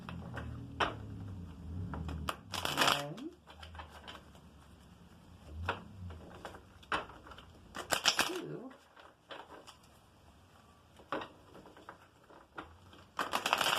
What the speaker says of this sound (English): I'm going to do 3 good shuffles and then a cut.